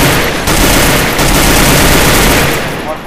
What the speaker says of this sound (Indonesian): Muka itu tembak Jok.